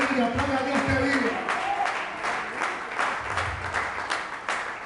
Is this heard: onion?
no